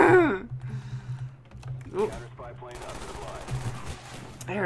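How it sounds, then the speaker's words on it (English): Shotgun blasts and gunfire crack out in the PC game Call of Duty: Black Ops 1, sharp bursts mixed over a player's excited commentary and keyboard clatter. "There's no escaping the shotgun!"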